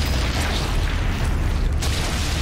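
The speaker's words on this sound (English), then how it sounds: "Grenades still work." A grenade blast in Sniper Elite 5 rolls out as a loud, dense boom with a sustained rumbling wash of debris noise, no voices over it.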